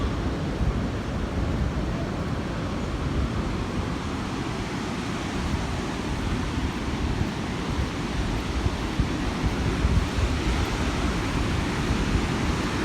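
Surf rolls onto the beach at Playa Venao, Panama, a steady, broad wash of breaking waves heard at a moderate distance, continuous and fairly quiet with no voices.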